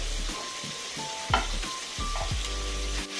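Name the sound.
chicken roasting on a tawa with oil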